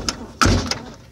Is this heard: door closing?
yes